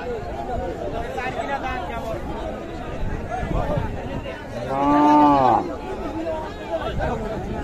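Cows at the Kaharol cattle market: one loud, drawn-out moo rises near the middle, close by, over constant crowd chatter and background bustle.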